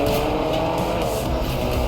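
Race car engine noise from a video game race, loud and continuous for about two seconds with a faint tire screech as the car skids, no talking.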